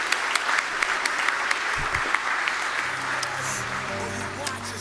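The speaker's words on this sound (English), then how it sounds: "you all deserve a round of applause" A gala and awards audience gives a round of applause, a dense, steady wash of clapping heard throughout with sharper individual claps standing out and a voice speaking faintly underneath.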